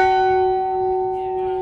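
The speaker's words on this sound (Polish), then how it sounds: "Dzwon" A large Smolensk memorial bell on Krakowskie Przedmieście in Warsaw rings with a steady, sustained tone, its harmonics humming and slowly decaying across the whole span, loud and close with faint background noise.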